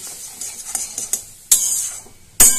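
A metal spoon scrapes and stirs a spice mixture of salt, sugar and turmeric in a cooking pan, with soft light scrapes and clinks, then two sharp, loud scraping strokes against the pan's side.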